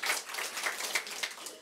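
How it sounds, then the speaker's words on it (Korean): Brief, moderately faint applause from the audience at a gubernatorial campaign committee launch and office opening, a soft wash of scattered clapping. "박수 치셔도 괜찮습니다."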